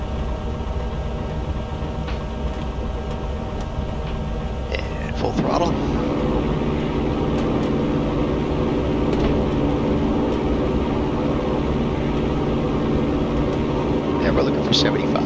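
A light aircraft's engine runs at full throttle for takeoff at Nehalem Bay, Oregon, a loud steady drone that strengthens slightly midway, with voices talking over it.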